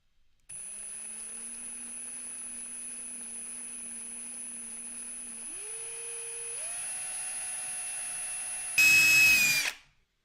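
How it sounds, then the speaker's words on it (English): Power drill boring a hole into a workbench, a steady whine that steps up in pitch twice as the bit works, ending in a louder rough burst as it breaks through before stopping. "place a hole right here in kind of the center of this using my drill"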